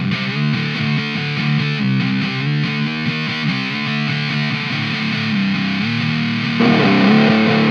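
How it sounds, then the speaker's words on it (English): An electric guitar with P90 pickups plays continuously with a little reverb, a dense, sustained run of notes and chords that swells in loudness near the end. "I put a little bit of reverb on."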